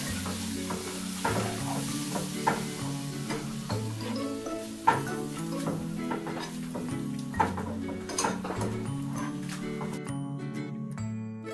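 Milk and chocolate melting in a pan while being stirred for a quick cookie dip, with a steady low simmer and soft repeated scraping strokes throughout, plus a few sharper clinks near the end.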